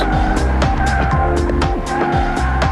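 A heavy 2.1-ton Mercedes S600 weaves through slalom cones, its engine rising and falling in repeated surges as the tires squeal and scrub in short bursts, loud and close.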